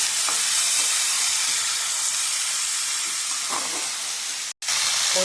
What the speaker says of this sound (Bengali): ডাঁটাটা দিয়ে একটুখানি নাড়াচাড়া করে নিই।